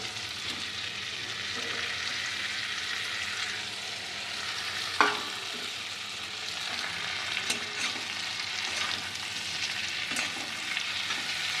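Potatoes fry in a pan with chili, coriander and cumin powder, a continuous close sizzle broken by occasional clicks and scrapes of stirring, with no one talking.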